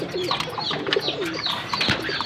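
A racing pigeon cooing inside its loft: several soft, rolling coos in close succession, near and clear, with faint background activity and no talking.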